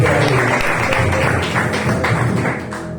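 A church congregation claps together in a steady, dense patter of many hands, loud and close, easing slightly toward the end.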